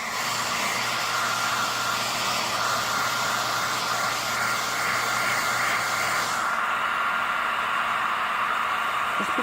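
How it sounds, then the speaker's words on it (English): A handheld blow dryer runs steadily, blowing on a doll to lift stains and shine. It makes a continuous, loud airy whoosh with no talk, and the tone shifts slightly near the end. "Okay, here we go with the blow dryer."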